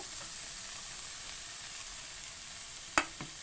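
Vegetables fry in a pan for momo filling, a constant soft sizzle with steady hiss and a sharp clink of a utensil near the end.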